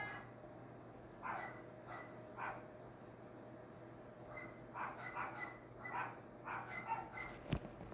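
Several dogs bark in short bursts at a moderate distance, clustered in irregular groups against a steady low background hum.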